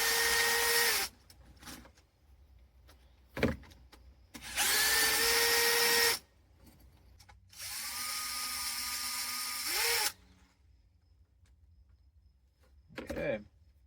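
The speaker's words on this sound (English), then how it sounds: "You take off the Allen bolt." An impact or power tool runs in three sustained bursts of several seconds each while undoing Allen bolts on the final drive travel motor of a 1992 Hitachi EX60 excavator, with short clanks between bursts and no talking.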